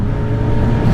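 A Honda CB1000R motorcycle engine roars loud and close for a brief moment, with a dense rumbling exhaust note that holds steady, consistent with riding under quick-shifter gear changes.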